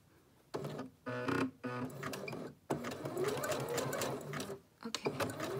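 A sewing machine runs a zigzag stitch through fabric for a hedgehog pincushion, loud steady whirring bursts that start and stop several times, up close with no talk.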